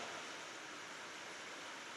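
Rainwater drops fall in a constant, smooth hiss like a distant downpour, steady and faint throughout, with no talking.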